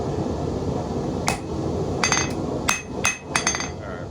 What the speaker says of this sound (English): I'm basically just gonna forge to where I feel like it's a good point to pick up from with the grinder